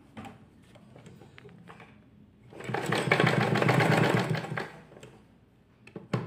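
A sewing machine stitches a sleeve onto a garment in one sustained buzzing run of about two seconds, close and loud, framed by quiet handling clicks and fabric rustle.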